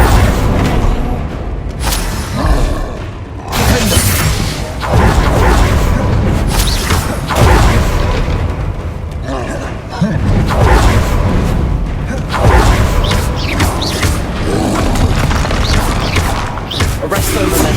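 Blasting-spell explosions from combat in Hogwarts Legacy: repeated loud booms and crashes with swishing casts, dense and continuous over battle noise, with voices calling out during the fight.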